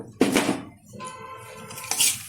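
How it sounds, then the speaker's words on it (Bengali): Peanuts tipped into a pan of melted ghee, making a loud metallic clatter of nuts and utensil against the pan, then quieter scraping and a second burst of clinks, with no talking. "দিয়ে দিচ্ছি চিনে বাদাম"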